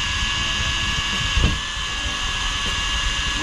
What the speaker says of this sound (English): We're just drilling a little hole right here to pop a screw through.